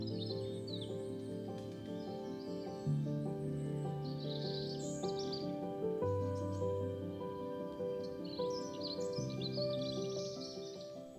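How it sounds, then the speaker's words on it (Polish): Birds sing and chirp in scattered, faint calls at dawn by the Łyna river, heard over a layer of steady tonal background sound. "Spotkanie tu śpiewających licznie ptaków o poranku to żadne zaskoczenie"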